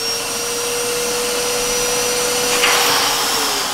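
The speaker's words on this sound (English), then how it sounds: "Now, if you do use a shop vac, we switch her on to see if it's really loud." A shop vac switched on, its motor settling into a loud, steady whine and rushing airflow, close by, with a brief surge near the end and no talking.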